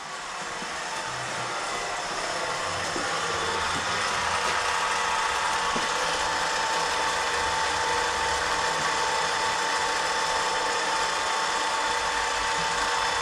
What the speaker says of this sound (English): so what are you working on the lathe here?